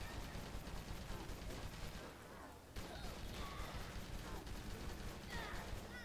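Gunfire from shooting zombies in the Tiny Troopers zombie survival video game: rapid, dense bursts of shots and impacts crackling continuously through the whole stretch, with a brief dip midway.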